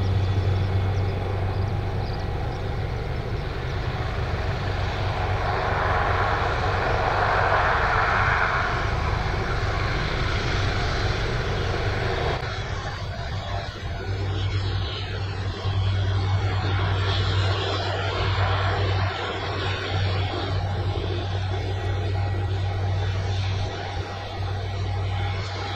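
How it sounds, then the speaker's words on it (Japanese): A Hiroshima Prefecture disaster-prevention aviation unit helicopter departs from a helibase at Takamatsu Airport during an emergency firefighting drill. Its loud, continuous engine and rotor drone shifts in tone partway through as it gets under way. "50分ほど前に到着していた広島県防災航空隊のヘリが出発します"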